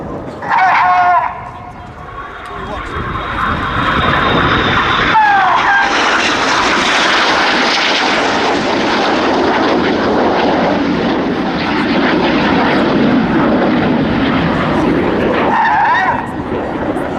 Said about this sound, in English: The pilots leave full power on the jets.